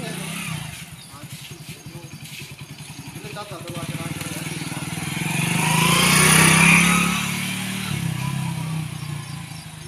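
A motorbike engine ridden by a family member drones steadily, swelling louder as it revs midway and then easing back, while voices talk over it throughout.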